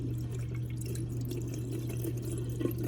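Dishwasher draining water during a rinse cycle, steady low hum with continuous trickling and splashing water, close and unbroken.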